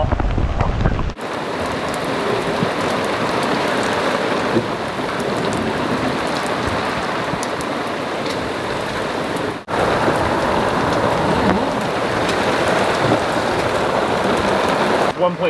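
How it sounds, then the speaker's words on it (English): Steady rain pours down on a boat, a dense, even hiss that fills the whole stretch with only a brief dip midway, close and loud with no talking. "It's not big, it's just rainy."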